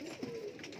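A pigeon coos once, low and throaty, close by at a pigeon seller's loft with grey kamagar and bichhu breeds, a brief rolling call over quiet background.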